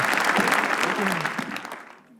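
A studio audience at a stand-up comedy show bursts into dense applause for a guest, holding strong before tapering off and fading toward the end.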